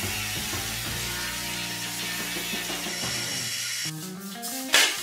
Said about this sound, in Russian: На 4 отрезках с помощью шлифовалки торцую торцы.